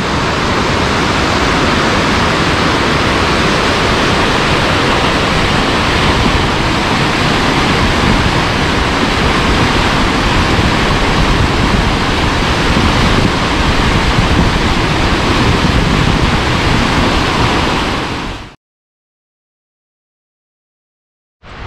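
Creek on Mount Rainier rushing beneath a bridge, a loud, steady broadband roar of close, fast-moving water that runs unbroken for about eighteen seconds before cutting off abruptly.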